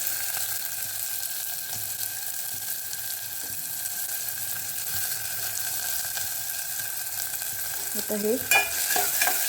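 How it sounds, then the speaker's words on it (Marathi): Chopped onion and tomato sizzle in hot oil in a Malvani-style crab curry preparation, a constant close frying hiss with faint stirring, ending with a brief clatter and a few spoken words. "छान तेलामध्ये भाजून घेऊया."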